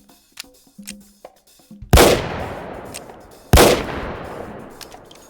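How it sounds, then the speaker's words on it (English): Two loud, sharp booms from a massive Bulldog Derringer firing .58 ultra long rifle in the H3VR game, about one and a half seconds apart, each ringing out in a long decaying tail after faint handling clicks. "Absolutely massive Bulldog Derringer, firing 58 ultra long rifle"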